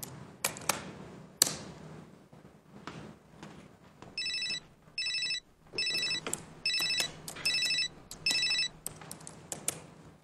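An outgoing call rings in a TV drama scene: about six evenly spaced electronic ring bursts, clear and fairly loud, after a few scattered taps and clicks.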